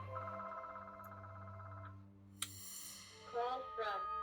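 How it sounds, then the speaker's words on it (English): A home landline telephone rings at close range, a steady electronic warble that cuts off partway through, followed by a few beeps. "The phone always rings when I do a video."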